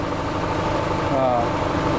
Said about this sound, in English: This is a D13000 series, which is a power unit version of a D8 engine.